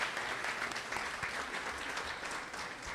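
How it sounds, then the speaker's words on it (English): Audience at a spring sports banquet for baseball, softball and golf gives a steady round of applause, even clapping throughout at moderate distance. "Nice round of applause for those guys."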